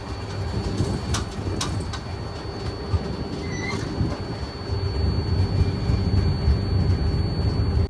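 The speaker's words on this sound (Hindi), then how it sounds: "तो अपनी ट्रेन निकल चुकी है don chord line railway station से" Lucknow–Pune express train pulling out of a railway station, a steady loud rumble of rolling stock with a few sharp metallic clanks and squeals near the start, continuous and close.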